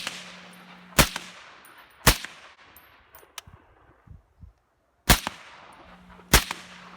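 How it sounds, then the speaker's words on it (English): Suppressed gunshots from a Desert Tech MDR rifle fitted with different suppressors, about five sharp cracks: two single shots a second apart, a quiet gap, then two more, each with a short ringing tail, no talk. "I started out by just shooting a few rounds through each suppressor and then trying a few rapid fire"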